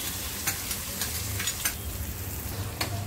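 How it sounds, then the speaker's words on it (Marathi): Finely chopped onions sizzle in a pan with cumin and asafoetida, a soft steady frying hiss broken by a few light stirring scrapes, heard close and without any talk. "2 कांदे घेतलेले आहेत कापून बारीक, कांदे टाकते त्याच्यामध्ये"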